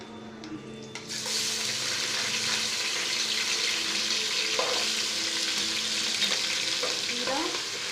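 Garlic and ginger hit hot oil in a pot for mutton yakhni pulao, a sudden loud sizzle that holds as a steady bright hiss with light stirring and clinks.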